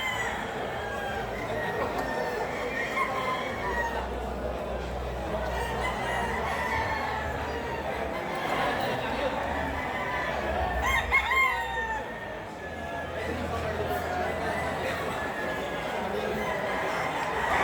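Roosters crow and chickens cluck at a poultry expo, set against a steady crowd murmur and background chatter, with a clearer crow rising briefly near the middle.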